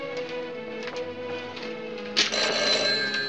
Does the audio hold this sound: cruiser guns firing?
no